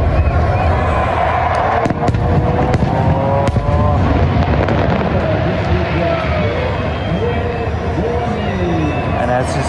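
Fireworks boom and crackle over Vancouver harbour at the Festival of Light, dense and continuous amid a large, loud crowd, with people talking.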